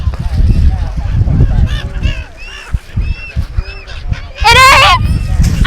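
Seagulls calling loudly while being fed at the Bangpu shore at sunset, with harsh nasal squawks rising over nearby voices and wind rumble, peaking in one loud cry near the end.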